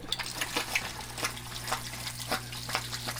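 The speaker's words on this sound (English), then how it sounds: "We got water running." Water runs steadily from a basement pipe fed through valves and switched on by a timer, a soft continuous splashing flow with a steady low hum beneath it.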